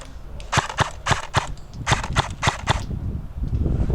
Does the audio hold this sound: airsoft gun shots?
yes